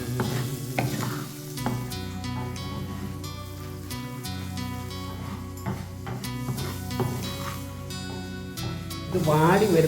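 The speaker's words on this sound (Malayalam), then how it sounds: "എണ്ണ തിളച്ച് വന്നപ്പോൾ അച്ചായന് ഉപ്പ് വരട്ടി വെച്ചിരുന്ന പച്ചമുളക് ഇട്ടേ." Salt-cured green chillies crackling in hot oil while being stirred, a dense close sizzle broken by sharp pops and scraping strokes, with voices talking over it.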